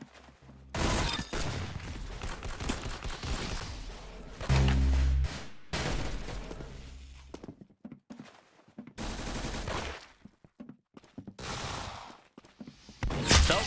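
Gunfire in the video game Arsenal, loud bursts of rapid shots in several volleys with short quiet gaps between them, up close and without talk.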